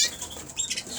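Young cock pigeons move about in a loft flight, with quick wing flutters, soft patters and scuffling on the perches, close and busy.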